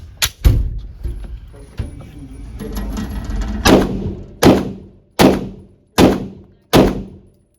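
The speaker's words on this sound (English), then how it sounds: "I'm going to hold on the right edge of the target and shoot just a little fast" Staccato XC handgun fired at an outdoor shooting range from 5 yards: a few scattered sharp reports early on, then five loud, evenly spaced shots in quick succession, each with a short decaying tail.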